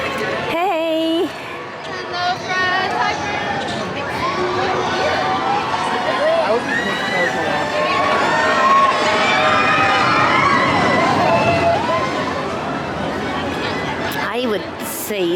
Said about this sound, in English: I would say the crowds are quite heavy